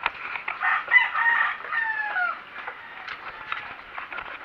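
Rooster crowing with chickens clucking around it at dawn outside a poor rural household, a loud near crow over scattered clucks, no talk.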